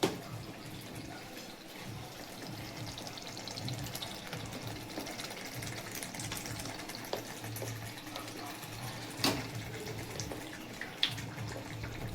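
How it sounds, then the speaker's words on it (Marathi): Water running and splashing as a mixer grinder jar is rinsed for a Maharashtra-style fish masala curry, a faint continuous trickle with a few louder drips and clinks. "आता आपण यामध्ये फक्त मिक्सरचं भांडं धुवूनच पाणी घालणार आहोत"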